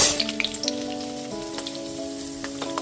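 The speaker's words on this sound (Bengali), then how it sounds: "গ্যাসের ফ্লেমটা মিডিয়ামে রেখে আলুগুলোকে লাল করে ভেজে নেব।" Potato pieces fry in hot mustard oil for a mutton curry, a steady fine sizzle with scattered pops and crackles, plus a sustained tonal hum underneath.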